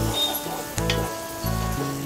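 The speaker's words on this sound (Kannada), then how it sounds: "ಹೆಚ್ಚಿರೋ ಗ್ರೀನ್ ಚಿಲ್ಲಿ ಇದು ಕೂಡ ಇದರ ಜೊತೆ ಫ್ರೈ ಆಗಲಿ" About a dozen chopped green chillies fry in a pan for veg dum biryani, giving a steady, close sizzle with a low hum underneath and a couple of brief clinks partway through.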